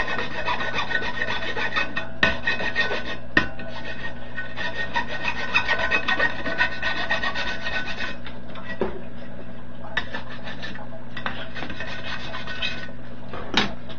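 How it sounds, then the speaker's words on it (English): A file rasps steadily along the edges of a DIY 120 VAC power switch box, a continuous close scraping stroke after stroke with a few sharp knocks and no speech. "Let me just file down the edges here"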